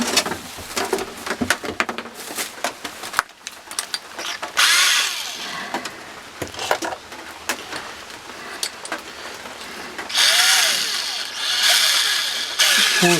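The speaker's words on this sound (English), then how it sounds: "Let's start in with the drill and get ready to mount that switch." A power drill bores into a box to mount a switch for a short-circuit check lamp, loud close whirring and grinding in uneven bursts with rattling mechanical clicks between runs.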